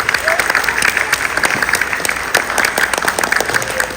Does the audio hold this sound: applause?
yes